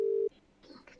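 A single steady electronic telephone tone sounds loud for a fraction of a second as a call connects, then cuts off into faint background noise.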